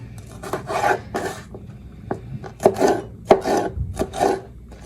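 A knife slices a green pepper into strips on a cutting board, giving close, crisp, rhythmic cuts in short bursts with brief pauses between strokes and no talking.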